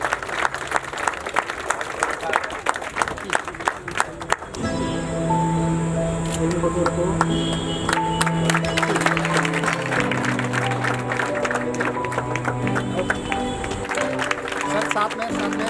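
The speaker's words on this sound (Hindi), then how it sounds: "चलिए आप लोगों की जोरदार तालियों के साथ।" Guests at a retirement ceremony clap, with scattered claps at first giving way to fuller applause beneath sustained music, with a few sharp clicks and voices mixed in.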